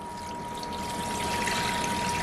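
Cold water pours into a pot of roasted pork bones, a steady rushing trickle that builds slightly in volume, heard close with a faint continuous tone beneath.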